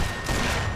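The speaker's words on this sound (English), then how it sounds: "Because we have to shoot the satchel anyway." Gunfire in the video game Sniper Elite 4, fired at a placed satchel charge, comes across as a dense, loud burst of blast noise with a sustained rumbling tail through the whole moment, no voices over it.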